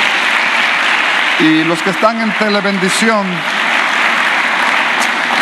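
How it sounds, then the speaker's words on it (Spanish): Church congregation applauding during a Spanish-language service, a steady broadband wash of clapping running throughout while a voice speaks over it in the middle. "Le damos el aplauso al Señor por la radio."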